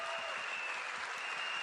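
An audience claps together at a large business gathering, a steady, dense wash of applause with no breaks, fairly close and filling the space.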